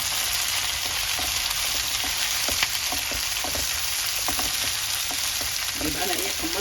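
Onions sizzle and fry in a pan after potatoes have been fried in it. A steady hiss of hot oil runs throughout, with scattered stirring clinks and scrapes up close.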